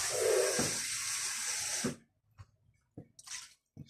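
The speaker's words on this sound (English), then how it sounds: "Get a bit more water on that." Tap water runs steadily into a cooking pot holding garden-picked vegetables and mince for a lunch dish, a broad rush for about two seconds, then cuts off, leaving a few soft clunks and a brief splash.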